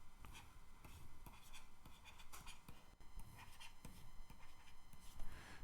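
Pen scratching across paper as someone writes by hand, quiet close strokes in short irregular bursts over a soft room background.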